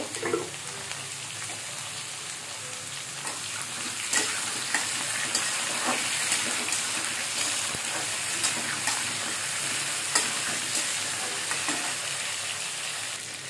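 Pointed gourd and potato pieces fry in oil with salt and turmeric, a loud continuous sizzle with frequent crackles and occasional stirring scrapes.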